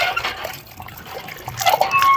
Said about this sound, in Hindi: यहाँ पे तो नलका भी पानी का मिल गया है।